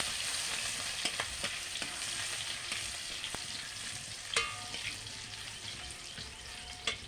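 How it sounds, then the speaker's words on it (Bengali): Crushed garlic fries in hot oil with a bright, crackling sizzle, close up, broken by frequent sharp spatter pops and occasional scraping stirs. "এবার আমি রসুনটাকে থেতো করে রেখেছিলাম দিয়ে দিচ্ছি, দিয়ে ভালো করে ভেজে নিচ্ছি।"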